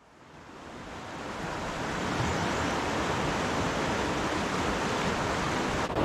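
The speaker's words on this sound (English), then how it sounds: "Okay, good evening from the Savage River." Flowing water of the Savage River on a warm evening, a steady broad rushing wash of current that swells in over the first two seconds and then holds loud and continuous, with no talk.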